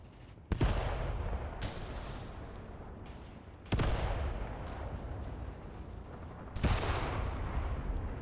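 Heavy shots from an anti-tank rifle and other gunfire in the Mius Front war game, three loud booming reports a few seconds apart, each followed by a long rumbling decay.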